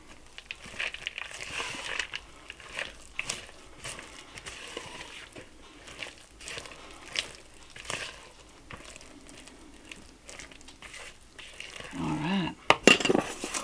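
Nuts being mixed into banana bread batter in a bowl, with repeated spoon clinks and scraping against the dish and soft stirring sounds, fairly quiet and with no talking.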